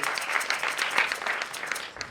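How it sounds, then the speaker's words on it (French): A theatre audience at a school show applauds a costume maker, with many hands clapping in a brisk, irregular patter that swells slightly and then tapers off toward the end. "veuillez l'applaudir encore une fois"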